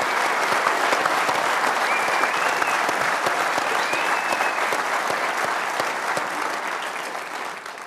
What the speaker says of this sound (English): We've not had a round of applause for your new head coach as well.